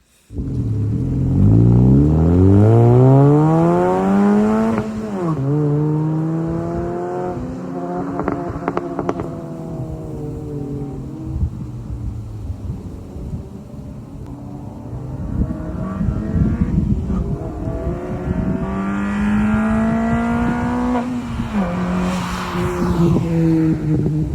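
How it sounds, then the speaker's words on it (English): A loud Honda Fit (GE8) exhaust revs repeatedly, the pitch sweeping up and down and sharpening with a raspy crack as VTEC engages at high revs, no talking. "You can hear the VTEC crack open. It's pretty loud."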